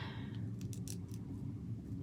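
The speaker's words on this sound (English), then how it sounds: "And I just need to cut with my scissors." Scissors cut through card for a handmade die-cut window card, a few soft crisp snips over a quiet low background hum.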